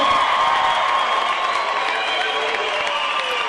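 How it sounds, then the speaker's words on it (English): Parents in a karate school gym give students a standing ovation, a crowd clapping continuously with cheering mixed in, fairly loud and sustained throughout. "Big round of applause. Let's give them a standing ovation."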